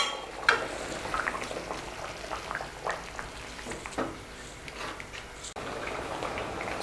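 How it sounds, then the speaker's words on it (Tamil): Pot of sambar with toor dal, turmeric and asafoetida, made with ivy gourd (kovakkai), bubbling at a steady boil, with soft popping and gurgling bursts rising and falling close by for several seconds, no talk. "பருப்பு சேர்த்து நல்லா கொதிச்சுட்ருக்குது"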